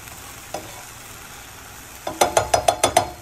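Banana and egg pancakes go into coconut oil, starting with a faint sizzle and a single clink, then a quick burst of about six rhythmic clinks and scrapes from the pan.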